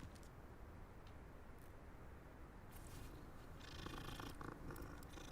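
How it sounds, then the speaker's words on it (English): A cat in the Hogwarts Legacy game purrs in a steady, continuous low rumble, close and fairly quiet, brightening slightly toward the end with no talking. "look, a cat."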